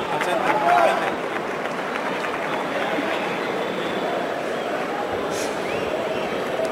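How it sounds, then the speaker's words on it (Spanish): Crowd at a boxing event applauding the anthem singer, a steady broad wash of clapping and cheering heard from within the arena, with a voice briefly over it. "Y un fuerte aplauso para ella."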